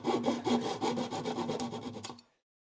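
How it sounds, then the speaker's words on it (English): A hand saw cuts through a wooden dowel close by while building a classical guitar, a quick series of rough rasping strokes in steady rhythm that ends abruptly after about two seconds. "Once you saw the dowels,"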